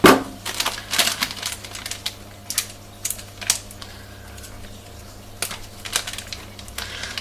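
A resealable plastic bag of grated gratin cheese is pried open by hand, giving close crinkly crackles and clicks in irregular bursts with quieter gaps between.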